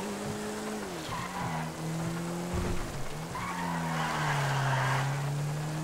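A time attack car in GTA5 runs down the Akina mountain road, its engine tone rising and dropping through gear changes with bursts of tire squeal, steady and moderately loud, with no talk.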